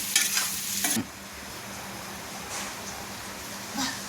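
Paneer frying in a pan gives a steady, close hiss of oil, with brisk stirring scrapes near the start and a few more later, and no talk.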